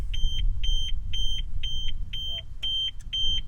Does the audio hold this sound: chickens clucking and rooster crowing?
no